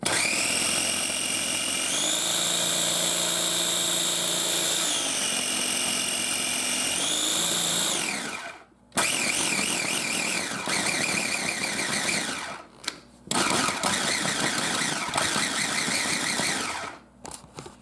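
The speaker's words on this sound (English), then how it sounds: "And now I'm going to switch it to puree." A KitchenAid KFC0516BM food processor motor whirs loudly and steadily on puree, its pitch shifting a few times, with two brief pauses before it starts up again.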